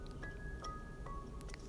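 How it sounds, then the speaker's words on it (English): Rain begins in a cartoon Elephant & Piggie story: a few sparse, light drip plinks land one after another over a quiet background, with the last ones slightly brighter. "It's starting to rain."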